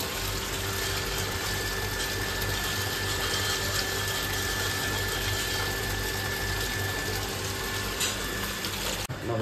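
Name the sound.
water filling a tank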